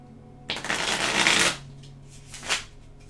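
A Tarot de Marseille card deck being shuffled up close, one long riffling burst of rustling cards followed by a shorter second flick, with no talking.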